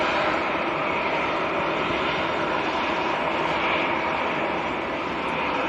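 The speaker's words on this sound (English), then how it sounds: "Jet 2 lining up" A Jet2 airliner lines up on the runway at Manchester Airport. Its engines give a steady, loud broadband roar that holds for the whole stretch without a break, and no one speaks over it.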